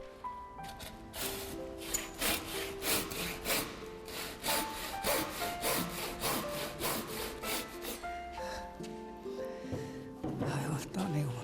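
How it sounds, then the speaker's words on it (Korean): Repeated back-and-forth hand saw strokes on wood, close and steady, with chisel scraping and rubbing between strokes during traditional Korean timber-frame carpentry; occasional voices murmur in the background. "주심돌이가 앉을 부분을 톱질과 끌질로 따낸다."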